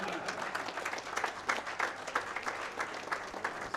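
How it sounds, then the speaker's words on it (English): An audience at a 2023 summit gives steady applause, a dense patter of many hands clapping evenly across the whole stretch. "as we clap for them"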